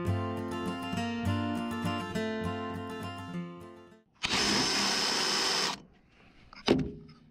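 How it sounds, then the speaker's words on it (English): A power drill whirs in a short burst of about a second and a half, loud and close, after some humming background noise. "Let me grab the drill."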